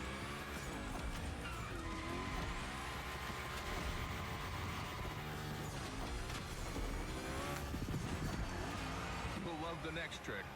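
Cars slide and skid through big gymkhana drifts in the racing game The Crew Motorfest, a continuous dense engine roar with tire squeal, under a voice talking over it throughout.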